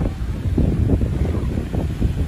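Strong gusting wind buffets the microphone on a cold early morning at Mũi Nai beach in Hà Tiên, a loud continuous low roar with surging gusts and no voices.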